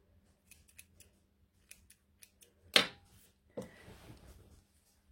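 Scissors cut through T-shirt fabric during garment sewing, a few small snips followed by one loud close crunching cut and a second longer slicing pass, with no talking.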